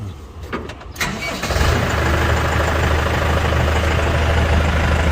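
A starter cranks briefly before the diesel engine of an LS PS90 tractor catches and settles into a loud, steady idle close by.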